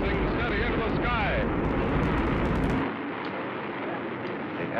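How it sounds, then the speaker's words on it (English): An Atlas rocket carrying the MA-6 vehicle lifts off from the launch pad with a loud, steady roar that dominates throughout, thinning abruptly near the end, and a voice briefly heard over it early on. "The Atlas missile has lifted off from the pad and is rising steady into the sky."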